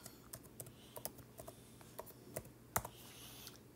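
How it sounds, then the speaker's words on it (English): Someone types a message on a computer keyboard, a steady run of crisp individual keystrokes with irregular spacing and one sharper tap near the end, close and fairly quiet with no talking. "So here I can come through and I can just type a message."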